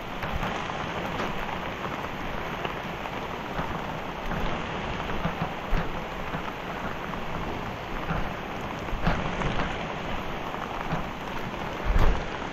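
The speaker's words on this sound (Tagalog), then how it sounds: "Grabe po ang ulan, lakas." Downpour of heavy rain on an eggplant farm, a loud steady roar of drops with occasional louder splashes and a faint low rumble of thunder, no voices.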